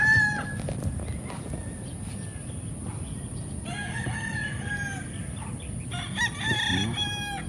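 Roosters crow repeatedly on a large Philippine breeding farm, several overlapping calls at moderate distance over a low rumble of clucking fowl and farm noise, with a faint bit of talk in the background.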